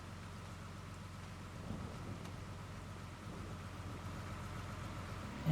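Steady rain falls in a Scottish highland setting in Farming Simulator 25, a soft, even hiss at low volume with a faint low rumble beneath and no voices.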